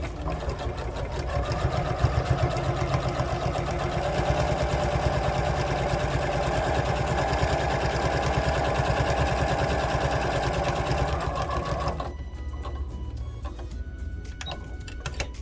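A sewing machine runs a long straight stitch around the edge of a lined patch pocket, with a fast, even mechanical whir held steadily for about twelve seconds before it stops and leaves quieter noise.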